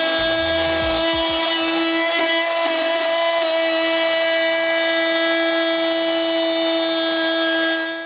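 Power saw cutting freehand through door timber to fit an acoustic vent, a loud steady whining drone running continuously from start to finish, with no voices.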